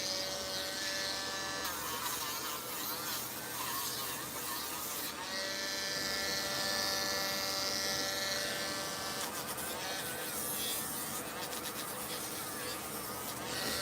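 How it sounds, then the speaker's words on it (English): An electric sander working over paper on a small paper-craft model truck, a steady continuous buzzing rasp that holds close and loud throughout with slight shifts in pitch, no talk. "I'm actually using the wrong sander here. I need to be using this heavy duty because I'm having to take off a lot of paper."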